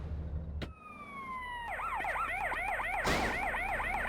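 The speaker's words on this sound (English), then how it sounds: "The fucking siren there just like wailing on itself." A police siren wails inside the video game GTA San Andreas Definitive Edition, first in a falling tone and then in a fast, looping warble that keeps going.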